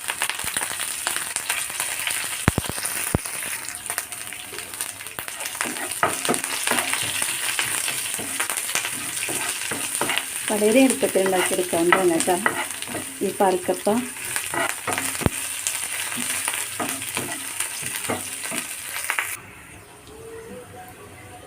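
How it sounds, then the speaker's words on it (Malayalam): Onion, dried red chillies and curry leaves fry in hot oil for a Kerala tapioca dish, giving a steady loud sizzle with crackling pops and stirring, while someone talks over it and the frying cuts off near the end. "ഇനി ഇതിലേക്ക് കുറച്ച് ഉള്ളിയാണ് ഞാൻ ഇട്ട് കൊടുക്കുന്നത് ഇനി ഇതിലേക്ക് കുറച്ച് ഉണക്കമുളക് ഇട്ട് കൊടുക്കാം പിന്നെ കുറച്ച് കറിവേപ്പില ഇട്ട് കൊടുക്കാം"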